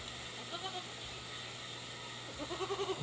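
Goats bleat on a farm, pregnant does close to kidding, with several wavering calls near the start and a louder run of bleats at the end over steady background noise.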